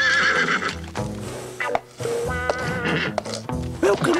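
A cartoon horse whinnies loudly several times in shrill, wavering bursts, with snorts and shuffling sounds between calls.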